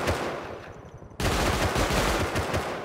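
Sustained gunfire in the video game Rust during a trainyard fight: a dense, loud burst of rapid shots starts abruptly after a quieter stretch and continues steadily to the end.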